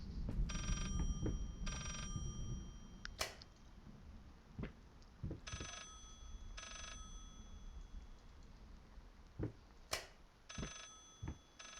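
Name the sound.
telephone ringing in video game Layers of Fear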